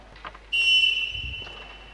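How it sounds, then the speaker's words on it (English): A referee's whistle at the ABU Robocon 2023 National Contest signals the start of the 60-second setup time: one long, loud, steady blast of about a second and a half, with a few low thumps in the hall beneath it. "Referee blows the whistle to begin setup time of 60 seconds."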